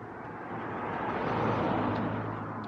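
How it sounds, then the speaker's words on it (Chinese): A single car passes on a quiet coastal road in Malacca early in the morning, a steady broadband road rumble that swells and fades over a few seconds, with no other traffic. "所以偶尔只有一辆辆车经过。"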